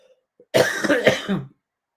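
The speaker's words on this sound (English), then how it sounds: "Excuse me, got a cough." A single short burst of coughing and throat clearing, close and fairly loud, lasting about a second after near silence.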